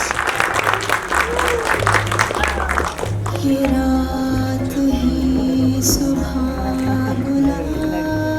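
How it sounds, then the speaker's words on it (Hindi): A crowd at the Zwigato film trailer launch claps loudly and densely for about three seconds, then the applause gives way to loud music with a pulsing, rhythmic bass line and sustained tones. "जोरदार तालियां, कम ऑन यार, we can make some noise."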